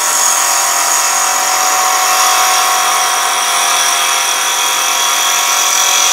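Wood lathe spinning a spindle blank while a spindle roughing gouge cuts along it with bevel rubbing, a loud, constant high whine and hiss of tool on wood, steady and close, with no talking.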